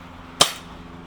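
A single sharp pop from an Umarex Smith & Wesson M&P40 CO2 blowback BB pistol, one close, loud crack with a quick decay and no talk.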